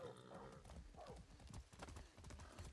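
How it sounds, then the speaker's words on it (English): Horse hooves clip-clop in a steady rhythm with a neigh, in Far Cry 6 gameplay, faint and low in the mix over continuous game background sound. "That's a good horse."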